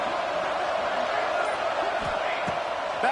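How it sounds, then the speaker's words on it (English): A stadium crowd roars in a football video game during Big 12 play, a dense, steady wash of cheering noise that holds at an even level across the whole short stretch. "The roar of the crowd trying to fuel this defense to keep them pinned in their own end"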